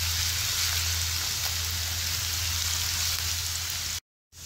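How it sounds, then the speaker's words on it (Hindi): Onions fry in a pan over a medium flame with a steady, dense sizzle and crackle that stays even throughout, close and fairly loud, before it cuts out briefly near the end. "फ्लेम इसके नीचे मैंने मीडियम ही ऑन की हुई है और प्याज का कलर हम लाइट ब्राउन कर लेंगे"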